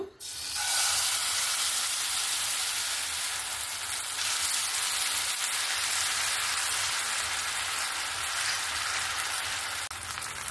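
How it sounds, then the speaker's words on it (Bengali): Semolina batter hisses and sizzles steadily in a hot frying pan, a loud, continuous crackling wash that starts abruptly and holds for several seconds with no voices over it. "আর এখানে ফ্রাই প্যানটা গরম হয়ে গেছে। এবার আমি এখানে সুজির ব্যাটারটা এখানে দিয়ে দেব।"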